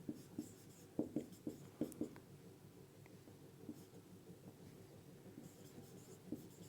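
A pen scratches across paper in short bursts of strokes, close and fairly quiet, with brief pauses between words during a Class 12 physics lesson on current electricity.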